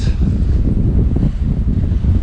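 Steady wind rushing and buffeting the microphone aboard a Hallberg-Rassy 54 sailing yacht in a light 12 to 14 knot breeze, with low water and hull noise underneath, continuous and fairly loud throughout.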